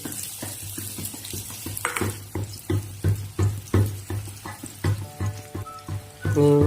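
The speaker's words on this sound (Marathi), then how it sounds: "हा कांदा आता आपण फ्राय करून घेतोय मंद आचेवरती" Onion fries in oil over low heat for egg bhurji, heard as a soft sizzle broken by regular stirring scrapes and knocks in the pan, close up, ending in a brief louder clatter, with no speech.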